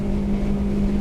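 A Yellowfin 5800 centre console boat's outboard runs at about 6,000 revs and 34 knots over light chop, a steady, loud engine drone with a constant pitch and no break.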